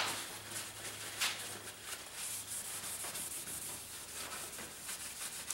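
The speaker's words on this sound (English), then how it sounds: "palette knife, scraper, I can clean my palette quickly because I'm working on glass here in the studio." A palette knife scrapes paint across a glass palette in a studio, a quiet and continuous rasping drag with a few brief louder strokes.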